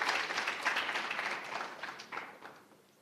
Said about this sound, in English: warm welcome and applause to our guests and our family members